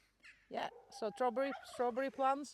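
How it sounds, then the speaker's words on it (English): Turkeys kept for eggs on a multi-species farm give a rapid series of close, warbling gobbles, overlapping with a short stretch of talk. "So we've got turkeys as well that we keep for eggs."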